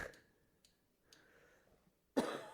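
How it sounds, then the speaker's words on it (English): A single harsh cough right beside the microphone, loud and abrupt near the end after a few faint breaths and small throat sounds in a quiet room. "Trying not to cough into the mic"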